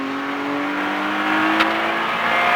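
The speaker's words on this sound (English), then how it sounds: "Back on the gas to maintain your speed, then brake." A race car on a track pulls hard under acceleration, its steady engine drone held close and loud with a rising pitch, a brief tire or mechanical squeak near the end and no voices.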